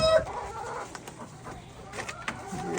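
Hen clucking softly in a cold farm coop beside a nesting box and roost, a few brief close clucks over low background noise.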